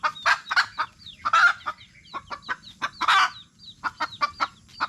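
A hen clucks close by with her chicks in a Filipino farmyard, giving a quick run of short, repeated clucks mixed with high chick peeps, with no talking.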